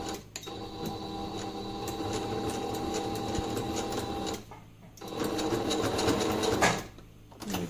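A sewing machine runs along a face mask seam and back stitches to secure it, with two bursts of steady rapid stitching separated by short pauses, close up and without talk.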